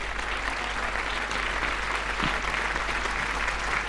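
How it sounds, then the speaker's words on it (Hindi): Audience applause greets a comedian at a Hindi comic poetry gathering, a steady dense wash of clapping that fills the hall for the whole stretch, loud and continuous with no voices over it. "सबसे पहले तालियों के साथ स्वागत कीजिए वेद प्रकाश वेद जी का"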